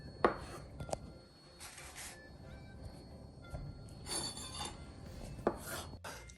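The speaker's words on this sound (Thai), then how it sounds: "เสร็จแล้วก็มาหั่นขนมนะคะ" A knife slices through a Thai coconut and jackfruit dessert with a few sharp taps against the board and soft scraping cuts between them, close and quiet.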